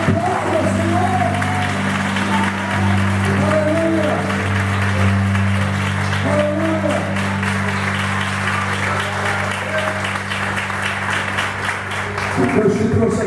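Church congregation clapping during a Portuguese-language worship service, sustained applause with held organ or keyboard chords underneath and a preacher's voice calling out over it before the music drops away.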